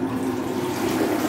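A public restroom toilet flushes at the press of a button, a steady close rush of water with a strong low gurgling tone, continuous and loud with no talking.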